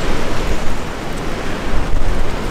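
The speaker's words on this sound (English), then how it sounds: "Right now it's windy." Strong wind buffets the microphone outdoors on a whitetail deer bowhunt, a steady roaring rush with gusty surges, loud and close, with no voices.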